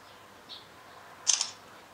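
Camera shutter taking a photo during a scrapbooking session: one faint click, then a louder, crisp double click a moment later, close and on its own without talk.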